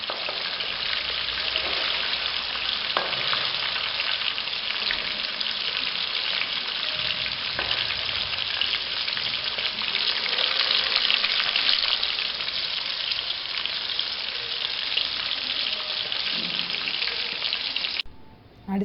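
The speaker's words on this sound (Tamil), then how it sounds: "பன்னீர் ஃப்ரை பண்ணுறதுக்கு நான் ஹை ஃப்ளேமில் தான் வச்சுருக்கேன்." Paneer fries in hot oil over a high flame for a kadai paneer dish, giving a steady, loud sizzle with occasional crackles and stirring sounds and no talking.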